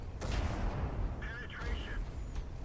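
Tank cannon firing in World of Tanks, a heavy broadband blast near the start followed by a sustained rumbling roar, with brief mechanical tones later and a voice talking over it.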